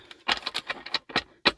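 Tarot cards being shuffled by hand, a quick run of soft, papery riffles and taps in an uneven rhythm, close and fairly quiet.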